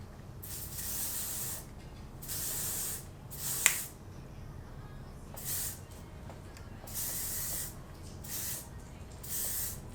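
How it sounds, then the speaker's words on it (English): Ouai memory mist sprayed onto hair in a series of close, airy hissing bursts at a steady rhythm, each lasting about a second, with quiet rustling between them. "so I'm going to go in with that memory mist and spray my hair."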